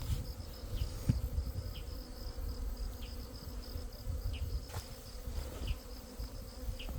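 Honeybees buzzing steadily around an open hive during an autumn inspection, a continuous close drone with individual bees whizzing past now and then, no talking.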